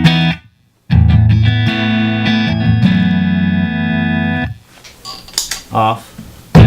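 A clean electric guitar plays through an Empress Compressor pedal, heard as sustained, evenly compressed chords ringing out loud and close. Brief guitar picking follows after the chords fade.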